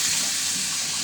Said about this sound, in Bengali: এখন জল দিয়ে দিই পরিমাণ মতো,